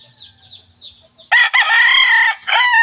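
A large fighting rooster crows loudly and close, with a long sustained call, a brief break and a second call. Softer clucking comes before the crow.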